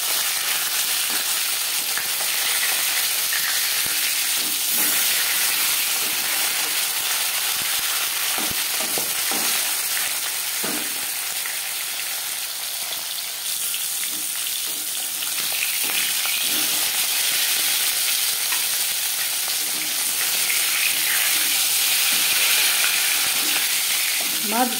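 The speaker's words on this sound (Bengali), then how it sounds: "মাছ ভাজা হয়ে গেছে" Tilapia fish pieces fry in hot oil for a Bengali-style curry, giving a steady, close crackling sizzle throughout with occasional soft stirring knocks.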